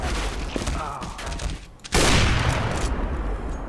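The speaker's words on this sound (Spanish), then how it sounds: "A ver cómo dispara" Gunshots in a little-known Counter-Strike style video game: a loud burst of firing erupts near the middle over a continuous noisy game background, with a voice heard speaking.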